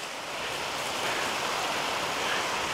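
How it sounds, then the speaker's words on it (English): Small woodland waterfall giving off a steady, even rush of splashing water, close and unbroken, with no voices. "Oh, look at that little waterfall."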